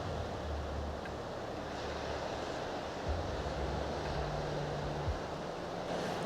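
Ocean waves breaking and washing in a small bay with a tiny beach where surfers ride, a steady distant surf roar mixed with wind buffeting the microphone, no talking.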